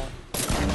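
A single loud gunshot from a video game cuts in abruptly and leaves a dense, roaring burst of noise, with no voices.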